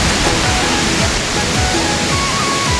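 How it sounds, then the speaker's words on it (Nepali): A waterfall on the Morne Seychellois nature trail sends up a dense, even roar of falling water, loud and close, with no break. "झरना"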